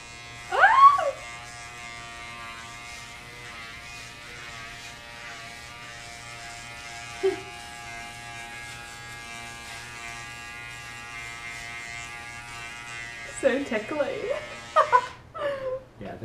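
Electric clippers buzz steadily and continuously while shaving a person's head, a close, constant hum throughout, with brief voices and exclamations at the start and toward the end.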